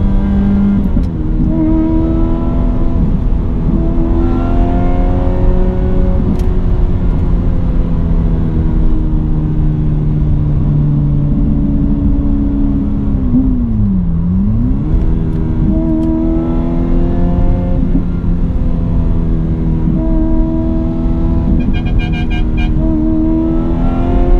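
A Ferrari F355 Berlinetta out on a shakedown drive after its annual servicing, its engine revving loud and steady from inside the moving car, with the pitch climbing and dropping through gear changes and one sharp dip and rise midway.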